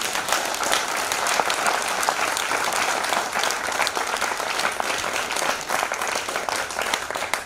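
Sustained applause from an audience in a hall during a Hindi poetry recitation, dense steady clapping running throughout at an even level with no voices on top.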